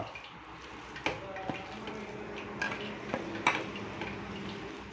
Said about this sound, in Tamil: இந்த மாதிரி நல்லா அழகாக மிக்ஸ் பண்ணிக்கிட்டு